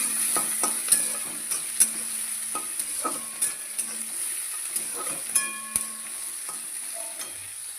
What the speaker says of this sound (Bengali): তেজপাতা, গোটা গরম মশলা আর পেঁয়াজ কুচি ভালো করে নেড়ে চেড়ে দিই